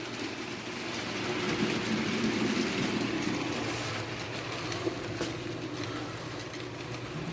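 A steam locomotive, Nickel Plate 765, in a train simulator game works at 40% throttle, a low steady rumbling chug with a broad hissing wash, fairly even and without talking.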